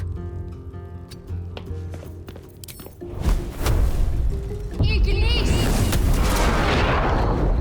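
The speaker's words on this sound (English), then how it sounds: "Grease will cause an explosion, burning the creatures caught in it." A Grease slick ignited by a Firebolt cantrip bursts into a fiery explosion in Baldur's Gate 3, a deep booming blast that swells midway and rolls into a loud, sustained crackling roar of flames over game music.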